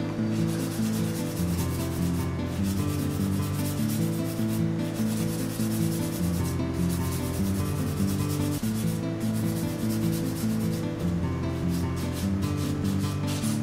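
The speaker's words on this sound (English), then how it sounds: "Now you hold your nail file like this. This is a perfect way to nail file." Acrylic nail being filed with a nail file, a continuous steady rubbing and rasping that runs close and even throughout with no pauses.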